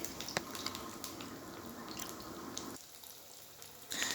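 Pieces of chicken fry in hot oil in a pan, a soft, hissing sizzle with scattered pops that drops quieter partway through, then swells again at the end.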